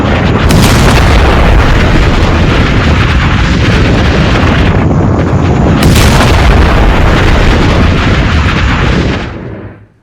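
A massive explosion from an Israeli missile strike on an Iranian police station, a loud sustained roaring blast with rumbling booms that fills nearly ten seconds before fading out at the end.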